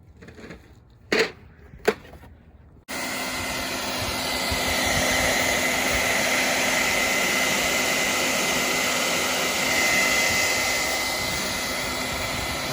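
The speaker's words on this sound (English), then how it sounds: "And also a heat gun." A heat gun switches on after a couple of knocks and then blows a loud, steady, close rushing roar with a faint tonal hum. It runs on unbroken and alone.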